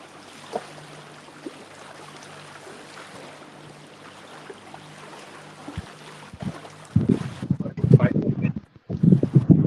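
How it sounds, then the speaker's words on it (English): Wind buffeting outdoors on the water during a live carp and catfish fishing session, a steady low rush for most of the stretch that swells into loud gusty microphone buffeting near the end, with people talking. "wind's pushing us"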